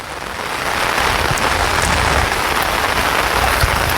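Floodwater rushing over submerged farm fields, a loud, dense, continuous roar of pouring water that stays steady throughout and stops abruptly at the very end.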